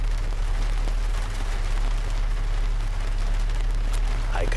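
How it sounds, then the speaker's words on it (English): Steady rain with a dense, constant hiss of drops falling on a surface, even and unbroken throughout, with a low hum underneath and no talking. "It is raining."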